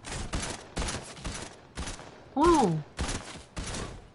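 Gunfire bursts in the video game Fortnite come as rapid repeated shots in several short volleys, close and loud, with a voice speaking briefly and a tonal sweep partway through.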